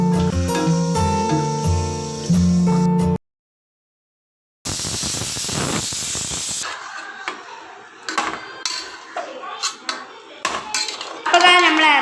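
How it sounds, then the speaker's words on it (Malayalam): Clattering dishes and pots being washed, with scattered clinks and knocks of metal against metal, following a short burst of music and a pause. "കുറച്ച് പാത്രങ്ങളൊക്കെ നേരുന്നുണ്ട് അതൊക്കെ നമ്മൾ മോറി വെക്കട്ടെ"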